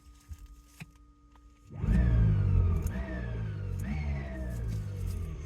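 Electric BMW motor with a newly fitted gearbox spinning up under the accelerator, a whining tone that rises in three repeated sweeps over a steady mechanical hum, close and fairly loud after a quiet start.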